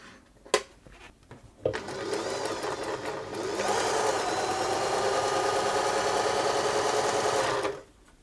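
Singer 631G (611G Glorious) sewing machine stitching a wide zigzag, starting with a few clicks and a brief pause, then running steadily at speed for about six seconds before stopping, close and fairly loud with no talk.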